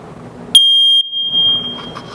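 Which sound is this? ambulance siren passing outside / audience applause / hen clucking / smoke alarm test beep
smoke alarm test beep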